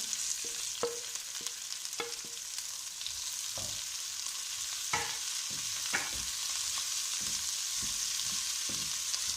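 Capsicum and potatoes fry in a pan with a steady close sizzle, punctuated by repeated knocks and scrapes of a spoon stirring against the pan, and no voices.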